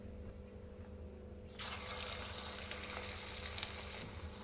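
Corn vadas drop one after another into a kadai of hot oil, and a loud, dense deep-fry sizzle suddenly erupts after a quieter low hum and continues steadily up close.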